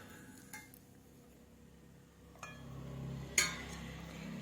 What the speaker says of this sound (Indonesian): Ini kita campur dulu si cream cheese-nya ini dengan butter.